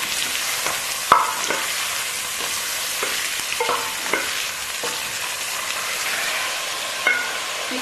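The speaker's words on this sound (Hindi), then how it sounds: "अब मैं इसमें ये चिकन डाल दूंगी। और इसको भूनूंगी 10 मिनट के लिए।" Chicken fries in a spiced masala, a close, continuous sizzle broken by regular stirring clinks and scrapes of a spoon against the pan, with no voices.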